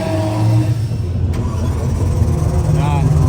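An E92 BMW M3 race car engine turns over and rumbles unevenly, cranking without catching cleanly, with a low steady drone and a brief whine near the end.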